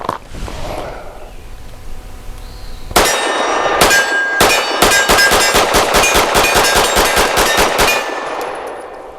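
A Steyr M9-A2 MF pistol fires a rapid string of shots at steel targets outdoors, each sharp report paired with a ringing metallic clang, the shots evenly spaced and loud.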